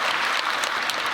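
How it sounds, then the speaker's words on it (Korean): Congregation applauding in a Korean church service, a dense, steady wash of many hands clapping at once, loud and close, with no talk over it. "인사할 때면 크게 박수하겠습니다."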